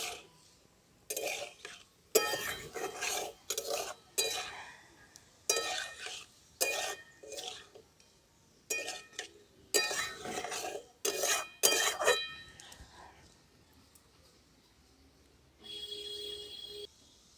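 A spoon stirs potato-and-flour snacks in a pan, producing bursts of scraping and rattling in an irregular rhythm with short pauses between, close and fairly quiet.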